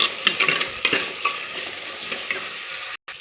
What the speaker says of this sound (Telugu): ఇప్పుడు పచ్చిమిరపకాయలు, ఎర్రగడ్డ వేసుకుంటున్నాను. అలాగే కరివేపాకు వేస్తున్నాను కొద్దిగా.